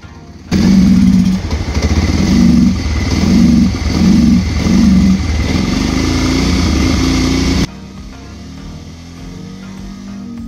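Bajaj Pulsar motorcycle engine running with a misfire, loud and close, its steady idle broken by rhythmic stumbling pulses before the engine note drops off abruptly near the end.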